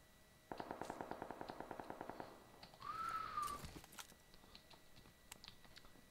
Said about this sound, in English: Where is that gunfire coming from?